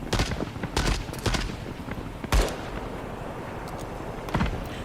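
Guns fire in the World War 3 video game, with several sharp gunshots and short rapid bursts coming at irregular intervals over a dense, rumbling battle background, some shots close and loud.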